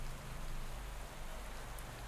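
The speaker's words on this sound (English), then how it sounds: "It is raining" Rain in the cycling game Pro Cycling Manager 2022, a steady soft hiss of falling rain with no distinct drops standing out, quiet and continuous.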